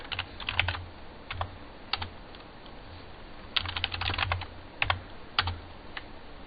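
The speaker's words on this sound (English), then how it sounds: "So I'll actually type it out and see what it actually says." Quick bursts of keystrokes on a computer keyboard while working in PowerShell, close and clear, with irregular clusters of clicks separated by short pauses and no talking.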